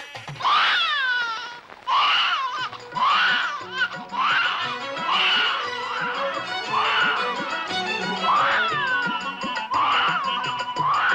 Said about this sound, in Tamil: இங்கே பச்சை குழந்தையின் அழுகை சத்தம் கேட்கிறது.